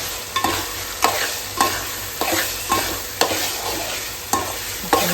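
Green peas fry in oil with a spice paste, a steady sizzle broken by regular scraping stirs about every half second, close and without talk.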